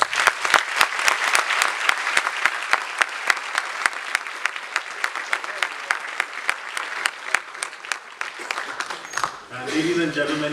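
A corporate summit crowd applauds in welcome of the comedian host, with steady, loud clapping and sharp individual claps on top, then a voice starts speaking over a PA near the end.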